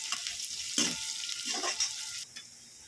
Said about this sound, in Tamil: பொடியாக கட் பண்ணி வச்சுட்டா வெங்காயம் சேர்த்துக்கலாம். நல்லா பொன்னிறமாக வறுத்துக்கலாம்